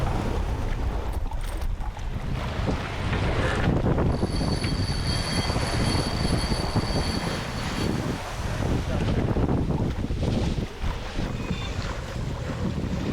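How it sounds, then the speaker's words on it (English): Steady wind buffeting a 37-foot Shannon sailboat under spinnaker at sea, around 8 to 10 knots, a continuous broadband rush with water noise and mic buffeting, plus a faint tonal whine for a few seconds. "We've got about 8 to 10 knots of wind right now."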